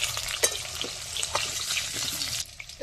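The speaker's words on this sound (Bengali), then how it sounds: "আলুগুলো একটু ভাজবো।" Potatoes frying in a pan for a rice-and-potato khichuri meal, a steady close sizzle with a few louder spits and stirring scrapes, easing off near the end; no one talks.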